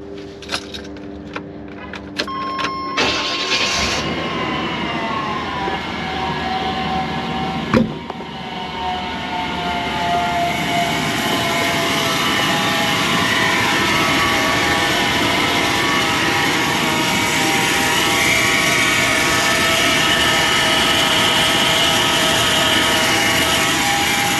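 A 1995 Chevrolet Silverado 1500 4x4 engine is started after a few clicks and a brief crank, then settles into a steady, loud idle with a continuous rumble and whine for the rest of the time.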